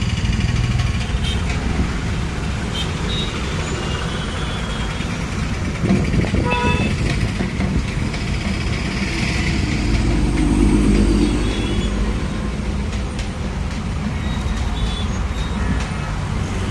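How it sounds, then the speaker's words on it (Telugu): A traffic jam on a busy road near Nagole metro toward Uppal, with a steady roar of engines from cars, buses and trucks and short horn toots scattered throughout, loud and close. "ట్రాఫిక్ అయితే ఫుల్ జామ్."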